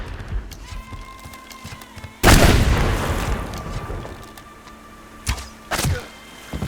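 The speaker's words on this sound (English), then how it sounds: "He's blowing my claymores up with his shotgun blast." Claymore mines set off by a shotgun blast in the survival game Subsistence: a sudden loud booming explosion with a rumbling decay, followed by a few sharper blasts and thuds.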